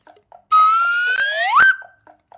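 A loud electronic alarm tone sweeps upward and holds a steady pitch for about a second, then glides higher, set against faint short beeps before and after.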